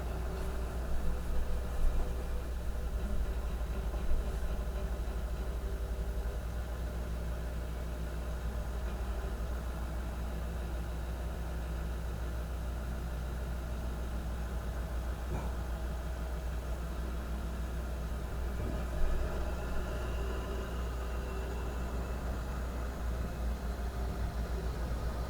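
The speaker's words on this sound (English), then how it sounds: "what could be a tow truck." Tow truck engine idling outdoors, a steady low rumble held faint and constant throughout, with a brief thump partway through and no voices.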